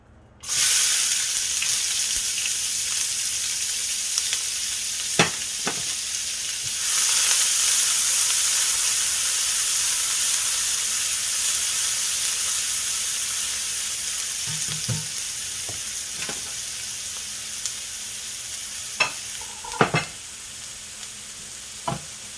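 Onion frying in vegetable cooking oil for pork fried rice gives a steady, bright sizzle that starts suddenly and continues throughout, with a few spatula clacks and stirs and no talk.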